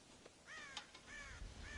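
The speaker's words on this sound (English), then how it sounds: "God damn crows!" Crows caw in Red Dead Redemption near a farm silo, several harsh calls in quick succession, fairly close and clear over a faint background.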